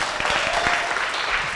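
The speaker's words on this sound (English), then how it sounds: "Let me give a round of applause here for Ido." Brief burst of audience applause at a live product launch event, dense clapping heard close and fairly loud for just over a second.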